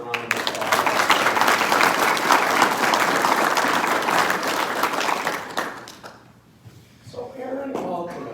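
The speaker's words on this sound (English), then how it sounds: "let's give them all another round of applause." Sustained applause from a crowd at marathon closing ceremonies, loud and continuous for several seconds before fading, followed by a voice resuming.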